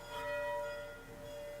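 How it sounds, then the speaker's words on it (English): Church bells ring faintly in the distance, a sustained tonal hum with soft swells, heard alone without talk at a quiet outdoor setting. "You can also hear it's COVID with the bells"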